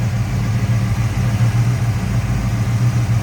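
A 1970 Dodge Charger SE's 440 V8 idles smoothly in the engine bay, a loud steady low rumble with even pulsing and no voices over it.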